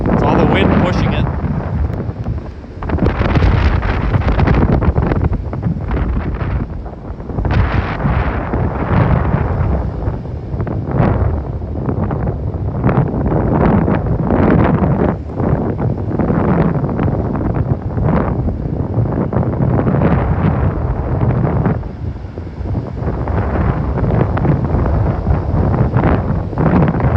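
Strong nor'easter wind on the Outer Banks coast during tropical-storm conditions, a loud, continuous roar buffeting the microphone for the whole stretch, with surf noise beneath and voices talking over it.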